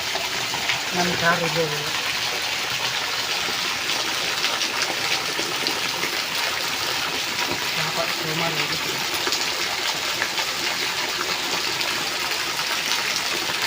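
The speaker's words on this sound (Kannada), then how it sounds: "ಮಳೆ ಹನಿ ನೋಡಿ ಮಳೆ ಹನಿ ಹೇಗೆ ಬರ್ತಾ ಇದೆ" Steady broadband hiss of rain falling and water running throughout, close and continuous, with brief faint voices underneath.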